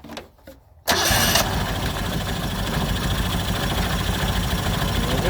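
Honda N600 sedan engine, left sitting outdoors for 16 years, cranks briefly and then catches, settling into a steady loud idle with a busy, rattly mid-range buzz.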